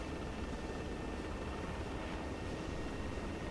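A steady, dense mechanical roar fills the space, like a rotor and engine heard from inside a video game helicopter's rear cabin, constant with no talking.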